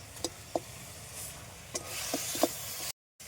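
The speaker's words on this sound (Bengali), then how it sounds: "ছানাটা একটু ভাজা ভাজা করে নিলাম" Chhana cottage cheese with sugarcane jaggery frying in a kadai, a soft sizzle broken by a few sharp stirring clicks and scrapes, close but quiet, before a brief cut to silence near the end; no speech.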